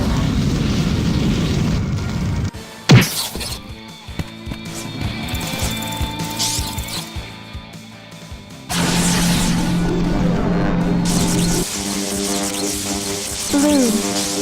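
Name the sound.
fire attack on enemies in the video game Grandia 2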